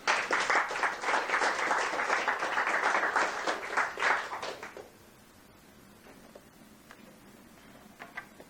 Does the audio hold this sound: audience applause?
yes